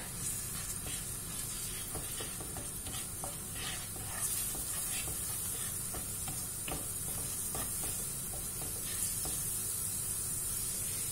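Spices and garlic sizzle steadily while being sautéed in a pan, a continuous crackling fry broken by scattered ticks and stirring clicks, close and with no speech.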